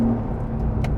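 A 2020 Porsche 992 Carrera 4 engine rumbles steadily at close range, a continuous low throb with a brief brighter burst near the end, with no talking.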